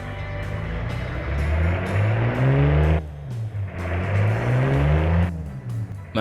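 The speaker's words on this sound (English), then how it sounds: "Very, very much a truck engine. That is the perfect truck engine." A no-muffler truck engine in the Automation car-building game revs repeatedly, loud and close, rising and falling in pitch over several throttle bursts with brief drops between them, and no talk.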